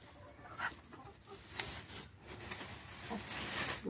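Hens clucking in a rural henhouse at feeding time, a scattered run of soft clucks and rustling, fairly close, with no talking over them.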